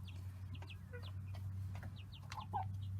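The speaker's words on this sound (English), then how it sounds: "we have some American Bresse hens in here" American Bresse hens cluck softly in a coop, with short scattered calls over a steady low hum, fairly close but quiet and without talk.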